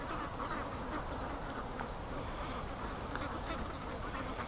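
Ducks quack in a noisy, continuous outdoor chorus, fairly faint against steady background noise.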